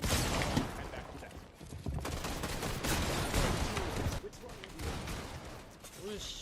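Gunfire in a Call of Duty match, with bursts of rapid shots and scattered single cracks crackling through a busy mix, partly under people talking and game sounds, moderately loud with brief lulls.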